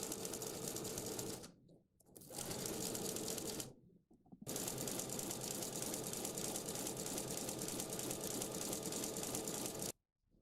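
A sewing machine runs steady stitches down the sides of a child's shirt in long, loud, continuous bursts, stopping briefly twice and cutting off near the end.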